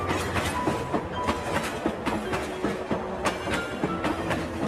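Cartoon sound effect of a train running in the rain, a steady rolling rumble with rhythmic clickety-clack wheel beats repeating throughout.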